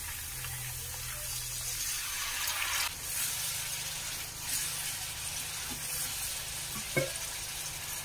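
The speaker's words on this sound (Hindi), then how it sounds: "अब मैं ऐड कर रही हूँ चॉप हुआ ऑनियन, करी पत्ता, अच्छे से ऑनियन ये सब फ्राई होगी।" Chopped onions, curry leaves, chana dal and peanuts fry in a pan with a soft, steady sizzle, quiet and continuous, with a few faint stirring knocks near the end and no talking.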